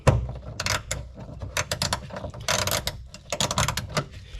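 An 8mm socket ratchet hand-tightening taillight nuts on a 1996 Mercedes SL500 R129, close rapid clicking in short irregular bursts.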